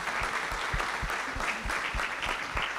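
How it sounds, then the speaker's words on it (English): Conference audience on the main stage at AMLD Africa 2026, Wits University Johannesburg, clapping steadily in a sustained round of applause, moderately loud with no talking. "So round of applause to these guys, first of all."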